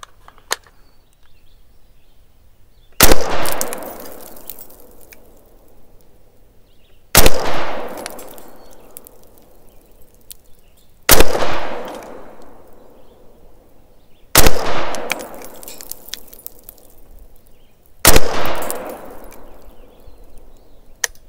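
Five rifle shots from a rifle fitted with Magpul 45-degree offset backup iron sights, fired while zeroing at a range, each a sharp loud crack with a decaying echo, spaced about four seconds apart.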